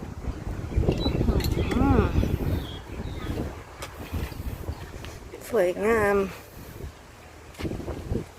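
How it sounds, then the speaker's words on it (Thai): Cold wind gusts and buffets the microphone at a mountain campsite in Khao Kho, rising and falling in loud rushes while a person talks nearby. "อากาศเย็นมากเลย ลมเย็น ดูจากลมพัดนะ"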